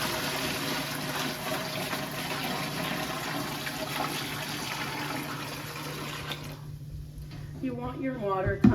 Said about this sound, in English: Once Stetson has all the jars in there, we'll pour the water over.